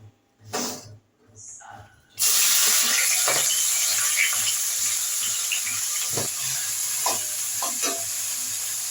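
Vegetables hit hot white oil in a wok, a loud steady sizzle that starts suddenly after a few quiet moments of speech and continues with occasional stirring clinks.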